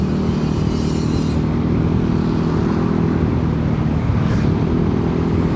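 Cars pass on a rain-soaked road after heavy rain, a loud close tyre hiss and engine rush swelling and fading as each vehicle goes by.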